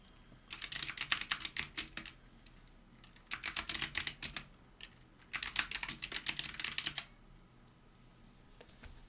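A computer keyboard clatters in three quick bursts of rapid typing as a chart title is entered in Excel, each flurry lasting about two seconds with short quiet pauses between, close and clear with no voices.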